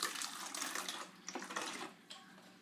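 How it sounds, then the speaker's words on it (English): Water runs into a nearly empty ketchup bottle to thin out the last of the sauce, a steady splashy pour lasting a couple of seconds, close and fairly loud with short gaps. "So I'm gonna put some water in it."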